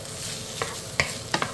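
Goat curry being stirred in a pot, a few soft scraping and clinking strokes of a spoon over a steady low background, brief and fairly quiet.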